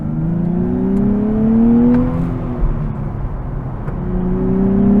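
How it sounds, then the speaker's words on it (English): A 2023 Nissan Z with a manual gearbox revs up and down, its sports exhaust note rising and falling in pitch, loud and close, with no one speaking. "Fantastic exhaust note here"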